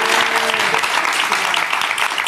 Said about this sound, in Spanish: Iván Armesto, un aplauso para él.